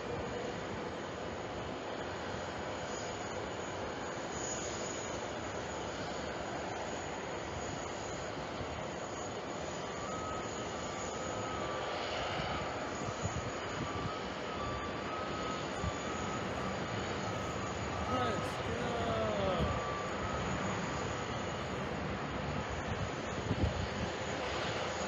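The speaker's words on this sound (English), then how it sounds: "747, folks." A Boeing 747 jet airliner at JFK Airport, a steady broadband engine roar held at a constant level for the whole stretch, slightly building near the end, with no one talking.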